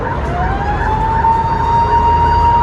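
A fire truck on an emergency dispatch sounds its siren, a loud, steady wailing tone that rises slowly and holds, close by and over street noise.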